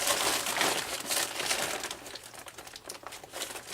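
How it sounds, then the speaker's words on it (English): A plastic tarp crinkles and rustles close up as a tarp buddy is tucked underneath it, with irregular crackling bursts that gradually thin out. "Place your tarp buddy in underneath where you need it"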